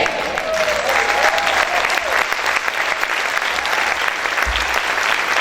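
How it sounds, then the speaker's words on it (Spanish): A congregation at a church service applauds strongly and steadily, a dense continuous clatter of many hands close by filling the whole stretch with no pauses. "Muchos aplausos para el Señor"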